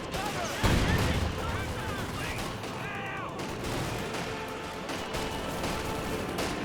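Battle din in Company of Heroes 2, where artillery and gunfire rumble and crack continuously under a commentator's voice, with one heavier blast standing out early on.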